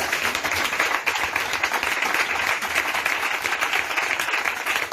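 A church congregation claps steadily, a dense, sustained wash of applause filling the room at moderate loudness with no breaks.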